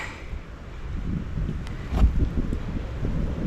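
Wind blows outdoors during a survival knife session, heard as a low rumbling buffet on the microphone that swells into a brief gust midway and then settles to a steady rush.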